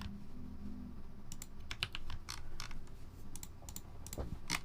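Fast typing on a gasket-mounted mechanical keyboard with a purple anodized aluminium plate, adhesive Poron gasket strips, GMK Rouge keycaps and three-stage springs, with bursts of crisp close keystrokes clustered in quick runs.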